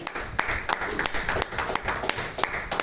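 A church congregation claps loudly in a fast, steady rhythm, a dense close burst of many hands with no voices clearly standing out.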